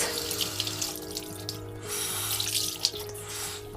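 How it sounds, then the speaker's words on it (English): Steady running tap water splashing into a sink, continuous and fairly close, with brief changes as a makeup sponge is held under the stream to wet it. "take my beauty blender and I'm going to wet it"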